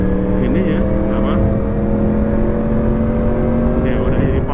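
A Yamaha R1 motorcycle that keeps breaking down runs with a steady droning engine note, a continuous even hum under someone talking nearby.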